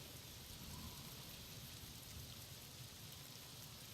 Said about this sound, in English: As soon as I get out, it starts raining.